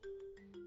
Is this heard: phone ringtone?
yes